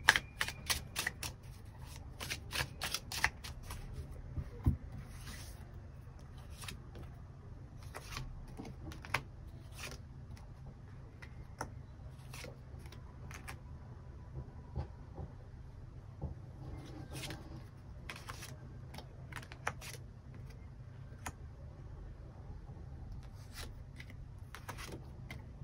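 Tarot cards being shuffled and drawn, a run of rapid crisp riffling flicks at the start, then scattered soft card snaps and slides over a low steady hum, close and fairly quiet, with no voices.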